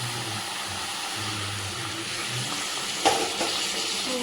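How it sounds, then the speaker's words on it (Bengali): Country chicken being slowly fried down with splashes of hot water sizzles and crackles in a pan, a steady close hiss with stirring, and a brief sharp splash-like burst partway through. "ফুটন্ত গরম জল দিয়ে দিয়ে এটা এবার কষাতে থাকবো।"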